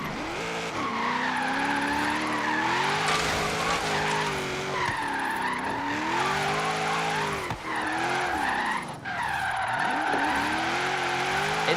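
An all-wheel-drive car is thrown hard around corners in Forza Horizon 3. The engine revs up and down through gear changes while the tires squeal and skid loudly and almost constantly, close up.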